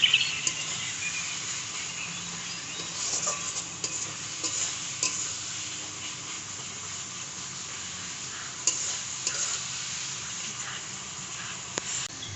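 Turmeric powder and spice paste with tomato being stir-fried for a traditional home-made chicken curry, a steady quiet sizzle with soft scraping and stirring clicks throughout, no talking.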